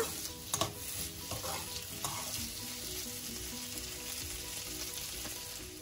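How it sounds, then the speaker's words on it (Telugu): Bitter gourd frying with onions in a pan, stirred steadily: constant close sizzle with a few scraping clatters of the spoon near the start, no talk. "ఇప్పుడు ఆనియన్స్తో ఫ్రై అయ్యాయి కాబట్టి కాకరకాయలు కూడా వేసుకొని ఫ్రై చేసుకోవాలన్నమాట"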